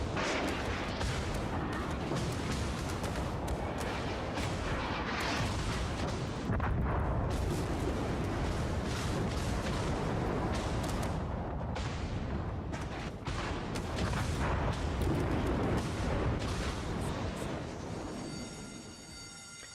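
Naval gunfire in the World of Warships game, a dense barrage of booming cannon blasts and rumbling explosions rolling continuously, loud and close, with a brief ringing tone near the end.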